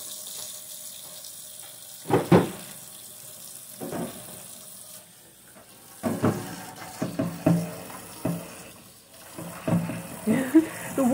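Hot water runs from a sink tap in a kitchen during fridge cleaning, splashing and gurgling in irregular bursts with quiet gaps between them.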